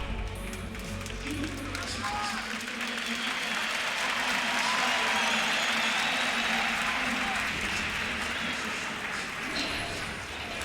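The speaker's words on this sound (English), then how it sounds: "as the crowd settles down" An arena crowd at the League of Legends 2018 LCS Summer Finals roars and applauds in a dense, sustained wash of cheering that holds steady throughout, with a caster's voice faintly underneath.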